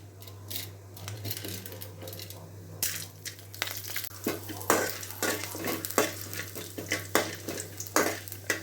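Chana dal sizzles in hot oil with cloves, cinnamon and fennel while a spoon stirs and scrapes the pan, giving repeated crisp clatters and scraping bursts over a steady low hum, with no talking.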